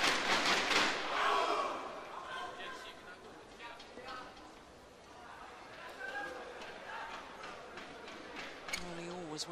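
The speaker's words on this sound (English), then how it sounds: "Malaysian spectators started cheering just before" Malaysian spectators cheer and shout at the Korea Open 2013 badminton match between Lee Chong Wei and Du Pengyu, a busy crowd roar that peaks at the start, dips, then swells again with voices mixed in.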